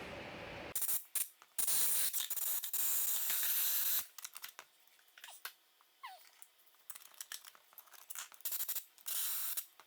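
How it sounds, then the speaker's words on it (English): Bursts of compressed air blast at a stuck wooden piece on a woodturning lathe in a workshop, a few loud hissing blasts followed by quieter clicks and rattles, with no talking. "We can try a little bit of compressed air, see if we can get it to move out"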